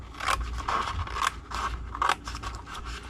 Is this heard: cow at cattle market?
no